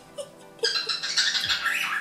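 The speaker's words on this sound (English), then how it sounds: "That bird is driving me crazy." Pet bird giving a run of sharp, loud squawks close by indoors, starting with a couple of short calls and then a sustained harsh burst.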